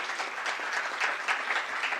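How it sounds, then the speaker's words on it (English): An audience claps in a sustained, dense burst of applause at a university lecture honoring ethnic, gender and transborder studies, steady and fairly close throughout with no talk over it. "Let's give her a good applause."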